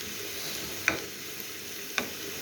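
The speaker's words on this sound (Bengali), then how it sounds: "পেঁয়াজটা ভাজা হচ্ছে" Onion with garlic frying in oil in a pan, a steady soft sizzle with two sharp stirring clicks of a utensil, close and without talk.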